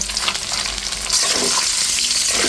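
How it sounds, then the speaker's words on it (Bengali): Duck eggs frying in oil in a pan, a close, loud sizzle that grows fuller and brighter partway through, with faint stirring and no voices. "সবসময় চেষ্টা করবেন হাঁসের ডিমটা এরকম অল্প ভেজে নিতে"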